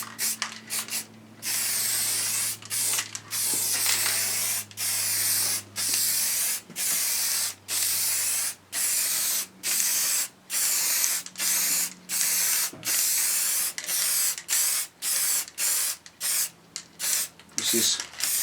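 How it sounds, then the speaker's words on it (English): An aerosol can of spray paint, warmed to keep up pressure, hisses out a coat onto a Triumph motorcycle bash plate in a garage, a rhythmic series of short, loud, close bursts separated by brief pauses. "as the paint runs down in the container, I'm just adding a little bit of heat to increase the pressure and keep it nicely atomised"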